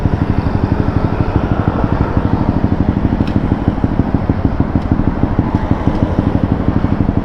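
A Honda RS 125 two-stroke motorcycle runs steadily and fairly close, its engine giving a dense, even buzz with a fast pulsing rhythm that holds for the whole stretch, with no talk over it.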